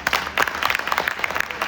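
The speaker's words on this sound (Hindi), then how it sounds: "क्या ये तालियां पर्याप्त है?" Close, loud applause from a crowd at an Arya Samaj annual celebration in Ghatkopar, brisk overlapping claps filling the short stretch.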